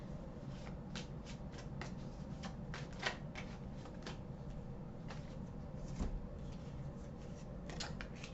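Tarot cards are shuffled close by in a steady, continuous riffle of papery flicks and soft slaps, with a few sharper snaps standing out.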